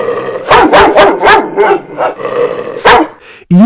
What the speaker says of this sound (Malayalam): അപ്പോഴാണ് ദാഹിച്ചു വലഞ്ഞ നായ അവിടേക്ക് വന്നത്